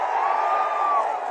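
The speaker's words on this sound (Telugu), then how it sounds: "గట్టిగా చప్పట్లు కొట్టి అభినందించండి" Crowd at an outdoor public political rally in Gurajala cheers in a steady, loud mass of voices with a sustained whooping tone.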